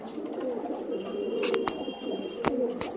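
Soft, low cooing from Punjabi pigeons runs steadily through the clip, with a few sharp clicks and taps near the end and no talking.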